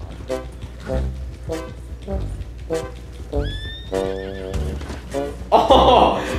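A horse in a video game whinnies loudly and close by, a rising then falling neigh in the middle, set among rhythmic clip-clop hoofbeats and other game effects, while a player talks over the action.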